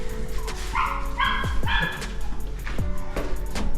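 Dogs bark and yip close by at Sernabatim beach in South Goa, with a series of sharp, high, whining yelps in quick bursts over steady outdoor background noise.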